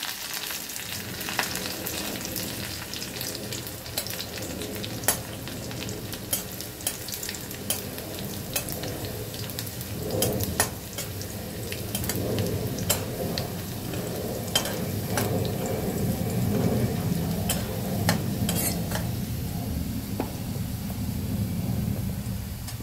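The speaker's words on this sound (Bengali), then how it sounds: "এবারে এগুলোকে লাল করে ভাজতে হবে।" Ingredients for a drumstick-leaf and masoor lentil dal fry toward reddish in a pan, a constant close sizzle punctuated by frequent sharp spatula scrapes and taps throughout, with no voices.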